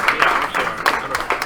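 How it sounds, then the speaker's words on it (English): A short burst of crowd applause at a Killer Queen game tournament at NYU Game Center, steady clapping from many hands, fairly loud and close. "round of applause for everyone who came here for the first time"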